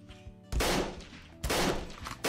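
Two loud gunshots ring out in a video game as an old crate is shot, each a sharp burst with a decaying tail, over a quiet background hum.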